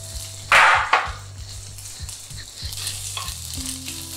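Pork pieces dropped into a hot oiled pan for black sweet and sour pork, bursting into a loud sizzle that settles into a steady frying hiss with faint stirring clatter, no talk.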